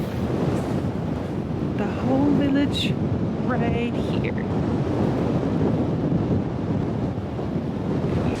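Strong wind in Longyearbyen, Svalbard buffets the microphone throughout, a constant roaring rush, while a person talks briefly over it.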